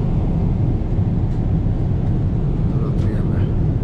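Inside an airliner cabin at the very back of the plane, a flight from Montreal to Luxembourg, a loud, steady broadband engine roar fills the whole stretch, with faint voices barely audible beneath it.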